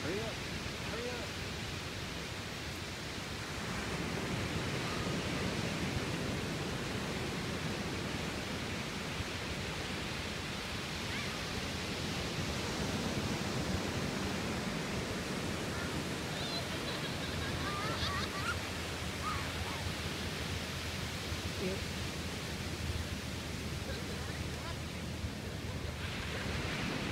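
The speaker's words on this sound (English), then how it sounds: "This little girl's enjoying the little waves" Small ocean waves wash onto a beach in a continuous, steady surf hiss, with a faint voice underneath.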